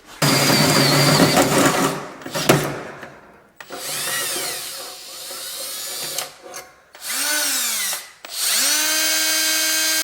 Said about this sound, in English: I'll drill those out